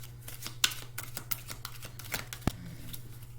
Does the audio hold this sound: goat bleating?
no